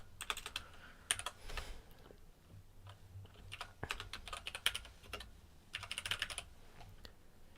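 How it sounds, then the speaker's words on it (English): Rapid bursts of typing on a computer keyboard, clattering keystrokes arriving in uneven clusters with short pauses between, close and fairly loud, no voices. "Sorry about all the typing."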